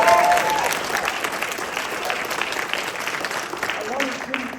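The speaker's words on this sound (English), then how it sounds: "Could you give her a round of applause for her?" A crowd applauds steadily for several seconds, the clapping dense and sustained, with a brief voice at the very start.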